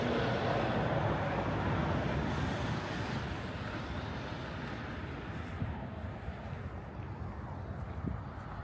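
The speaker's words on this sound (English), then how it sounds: "This old school tow truck out here by the highway." A vintage tow truck idles and rumbles steadily nearby beside a highway, its engine drone filling the clip with a broad low roar and some wind buffeting.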